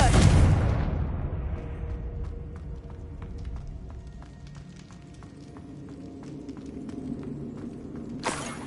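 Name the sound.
Confringo spell cast in video game Hogwarts Legacy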